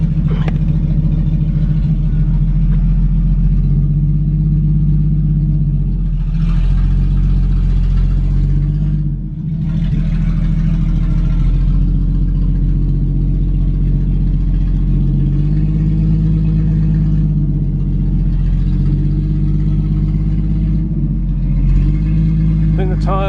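A pre-war car engine runs on a test drive, a loud low rumble that rises and falls with revving and one brief dip, while a person talks over it.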